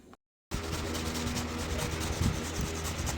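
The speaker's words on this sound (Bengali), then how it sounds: "হয় আম ঘষে, নাহলে শশা ঘষে" Mango or cucumber rubbed against a grater, giving a continuous close scraping rasp after a brief silent gap, with no speech.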